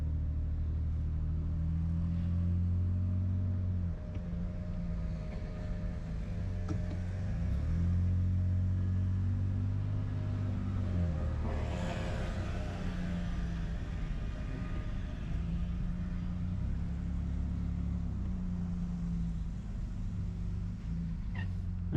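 A Nissan Frontier truck's engine hums steadily while driving, a low continuous rumble that swells and eases slightly as it moves, with no talking.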